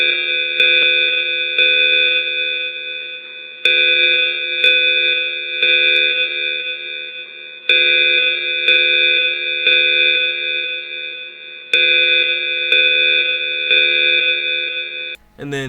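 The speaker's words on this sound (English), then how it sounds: "that sound's actually coming from it's called an alarm tower." An alarm tower in a video game sounds a loud, harsh multi-tone siren blaring in repeated long bursts of about two seconds each, separated by brief dips, continuing steadily throughout.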